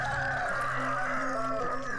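A chicken clucks in the video game Bulb Boy, a run of low, nasal bird calls over a steady droning game soundtrack, moderately loud and continuous.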